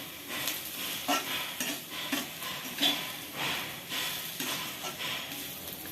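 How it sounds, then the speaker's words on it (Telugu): Drumstick curry being stirred in a pan, a steady scraping and sizzling with soft rhythmic strokes of the spoon, close and fairly quiet, with no voices. "ఒక 2 నిమిషాలు కలుపుకుంటే సరిపోతుంది"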